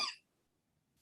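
A single short cough sounds close and clear, then quickly fades into near silence.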